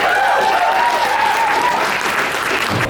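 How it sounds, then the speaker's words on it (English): A crowd gives a loud, sustained round of applause for Taylor, the clapping packed and continuous, with a thin whistle-like tone over the first part before the applause eases slightly near the end. "Let's give a round of applause for Taylor"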